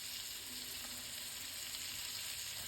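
Salted onions sweat in a pan for a sausage casserole, giving a steady, even sizzle and hiss that runs unbroken from start to finish, with no voices.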